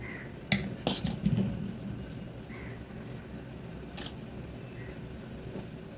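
Steel idli steamer lid set down over poured black kavuni rice batter, giving a few sharp metallic clinks and knocks near the start and a single clink later, over quiet kitchen background.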